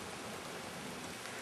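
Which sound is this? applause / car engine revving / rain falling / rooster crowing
rain falling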